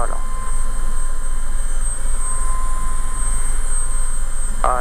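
A helicopter in flight during elementary pilot training, its engine and rotor droning steadily and loud throughout, close up from inside the cabin, while an instructor speaks in French.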